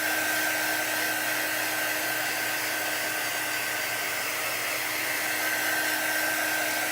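A hair dryer blows on a chalk craft to dry it, giving a constant loud, close whoosh with a steady whine that stays unchanged throughout, with no voices.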